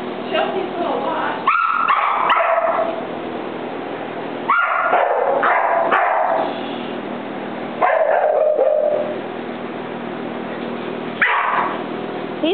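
A dog barks at sheep in repeated clusters of sharp yaps and whines, with a steady background hum between bursts.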